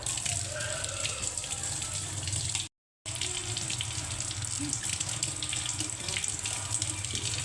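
Running water pours from a tap into a vessel while meat is rinsed and washed clean in a kitchen, a steady splashing gush with small drips, interrupted once by a short gap.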